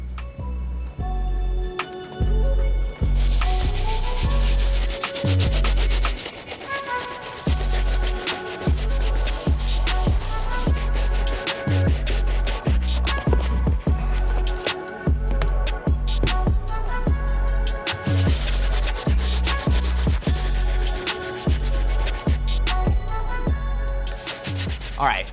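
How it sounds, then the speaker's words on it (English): A soft bristle brush scrubs the uppers of Asics Gel-Lyte III sneakers in quick, rhythmic bursts of rough rubbing, close up and loud, with brief pauses between strokes. "we're gonna start off by using our soft bristle brush to properly clean up these uppers"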